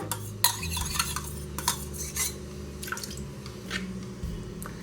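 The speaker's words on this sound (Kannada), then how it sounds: "ಇದನ್ನು ಒಂದು ಫ್ರೈಯಿಂಗ್ ಪ್ಯಾನ್ಗೆ ಹಾಕೋತೀನಿ ತುಂಬ ಗಟ್ಟಿ ಇದ್ರೆ ಚೂರು ಒಂದು ಟೀ ಸ್ಪೂನಷ್ಟು ನೀರು ಹಾಕ್ಕೊಂಡು ಮಿಕ್ಸ್ ಮಾಡ್ಕೋಬೋದು" A spoon stirs thick chicken masala paste in a frying pan, giving soft wet squishing and scraping strokes with light clinks against the metal, close and fairly quiet.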